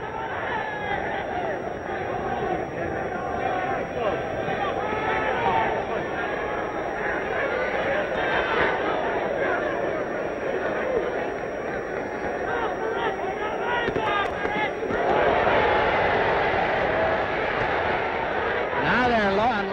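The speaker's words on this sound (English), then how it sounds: "Crowd is highly vocal." Vocal crowd at a Madison Square Garden boxing bout between Emile Griffith and Benny Kid Paret, a steady roar of chatter and shouting that swells louder near the end.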